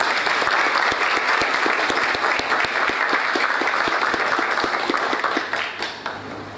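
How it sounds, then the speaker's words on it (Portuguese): An audience at a formal heraldic society opening ceremony bursts into sustained, dense applause, many hands clapping loudly and steadily before tapering off near the end. "Vamos aplaudir."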